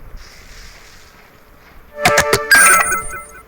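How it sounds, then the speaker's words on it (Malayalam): A phone ringtone rings loudly and close: a few sharp repeated tones, then a sustained melodic burst after a quiet start. "ഫോൺ അടിച്ചു വന്നു തോന്നുന്നു."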